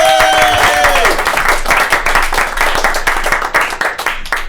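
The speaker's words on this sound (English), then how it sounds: "give her a round of applause" A live comedy show audience at Shakers breaks into applause for a comedian, dense hand clapping close and loud, with a few cheers, a brief whistle-like tone at the start, and the clapping thinning slightly toward the end.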